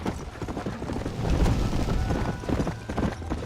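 Hooves clatter in a quick, uneven rhythm of a galloping horse in Red Dead Redemption 2, close and moderately loud, with a brief whinny-like sound mixed in.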